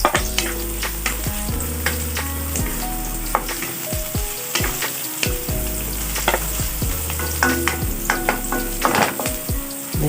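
Garlic, onion and ginger frying in a hot pan for a Filipino pinapaitan, sizzling steadily and loudly with repeated stirring clatter and scraping throughout, no voices.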